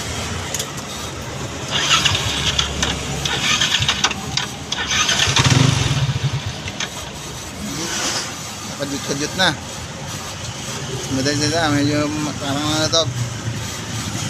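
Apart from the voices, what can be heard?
Yamaha NMAX V1 scooter engine starting and idling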